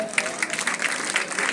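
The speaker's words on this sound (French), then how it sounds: "applaudissements s'il vous plaît" Applause from a crowd at the enthronement ceremony of a central village chief, a steady wash of many hands clapping that holds throughout at moderate loudness.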